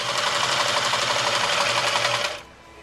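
A repair-shop sewing machine runs a wide zigzag stitch across a patch, whirring in a steady rapid chatter for over two seconds, close and loud, before stopping abruptly.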